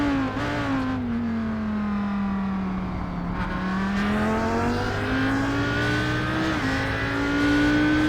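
Mercedes race car engines at the 24 Hours of Daytona, a loud sustained howl with a rising and falling pitch as a car revs and accelerates, with other engine noise behind it and no talk.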